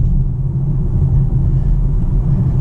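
A 2022 Polestar 2 Dual Motor drives on winding back roads and slows for a turn, giving a loud, steady low rumble of road and cabin noise with no distinct events.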